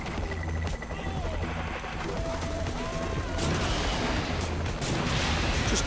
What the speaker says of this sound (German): Ah, zwei Schüsse.